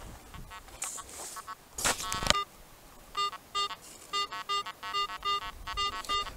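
A metal detector sweeping over a beach gives a run of short, evenly spaced electronic beeps, close and clear, following a few louder rustling bursts at the start.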